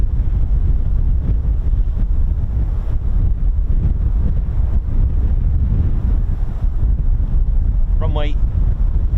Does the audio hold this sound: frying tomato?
no